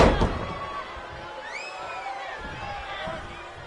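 Crowd cheers and roars through a women's wrestling match in a video game, a steady arena din beneath a commentator's voice after a heavy slam at the start.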